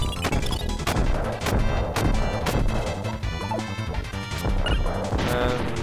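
Repeated bomb blasts and crashing hits in Kirby Super Star, loud and close, arriving in a dense rapid series over busy game music with no talking.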